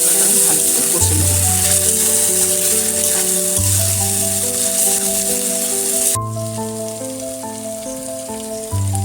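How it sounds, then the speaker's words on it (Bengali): Spices sauté in a pan for a vegetarian potol and soybean curry, giving a steady, close sizzle with music playing behind it. The frying noise drops off noticeably partway through. "এবারে মশলাটা আমি ভালো করে কষে নেব।"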